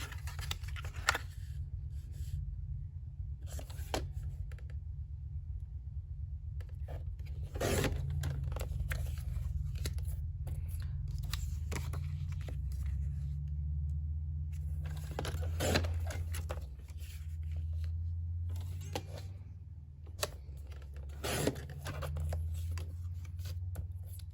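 Scissors snip through sheets from a 6x6 patterned paper pad, a series of short crisp cuts spaced irregularly, close up and fairly quiet, with soft paper shuffling between cuts and no talking.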